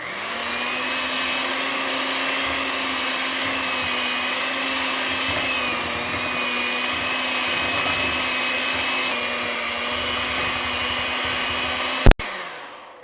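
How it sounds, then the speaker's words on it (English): An electric mixer on low speed beating red velvet cookie dough, a steady continuous whirring hum for about twelve seconds, then a sharp click as it switches off. "we're going to mix this on low until this is well combined"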